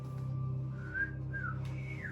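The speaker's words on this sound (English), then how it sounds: "I'm gonna whistle." A person whistles a few short rising and falling notes, faint and close, over a low steady hum in a quiet room.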